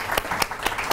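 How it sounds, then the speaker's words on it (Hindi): A studio audience on an Iftar television show claps in a short burst, a steady patter of hands with regular accented claps coming through. "तालियां तो होनी चाहिए"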